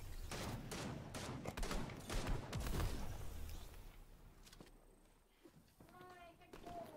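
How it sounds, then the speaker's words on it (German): Rapid bursts of gunfire in a video game, dense, loud volleys in the first half, fading to sparser shots later, with a player talking over the action. "Wow, ich hab hier Schüsse."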